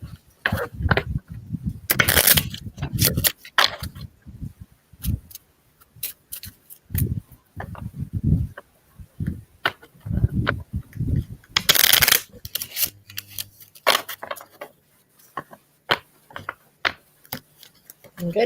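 A deck of tarot cards shuffled by hand during a live card reading, a run of soft riffling and slapping bursts in irregular rhythm, close up, with a voice talking at times.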